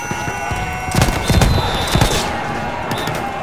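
Submachine gun fire in a World War I battle in Battlefield 1, set in 1916: rapid bursts of close, sharp shots clustered in the middle, over a steady battlefield din.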